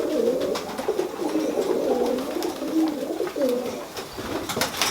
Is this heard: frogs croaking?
no